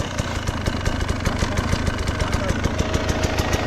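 An enduro motorcycle idles nearby in a forest, its engine putting out a steady low chugging rhythm with regular pulses throughout, while people talk over it.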